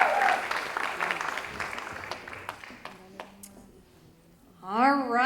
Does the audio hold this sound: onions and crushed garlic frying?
no